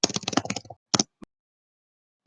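Keyboard typing during a podcast, a quick burst of clustered key clicks followed by a few isolated taps after a pause, close and fairly quiet.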